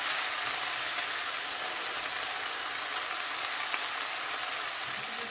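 Cabbage frying and stewing in a pan, a steady, hissing sizzle like light rain that holds evenly throughout at moderate level, with no voices.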